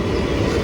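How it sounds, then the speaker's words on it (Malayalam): Parasuram Express train at Tirur railway station, a steady low rumbling roar of a passing train, close and continuous for the brief moment. "അപ്പുറം വന്നത് പരശുറാം എക്സ്പ്രസ് ആണേ."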